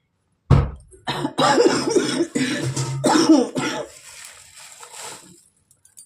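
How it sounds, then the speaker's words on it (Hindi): A woman at home coughs several times in a close, loud burst of harsh coughs and throat clearing, then the sound fades into quieter breathing and faint movement. "खांसी हो रही है"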